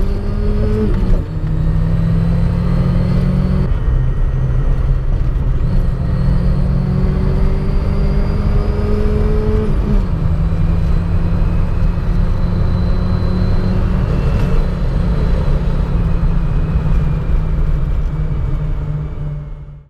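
A Volkswagen Polo G40 engine idles steadily after starting, a loud continuous close rumble with slight pitch shifts in its hum, running alone without voices for about twenty seconds.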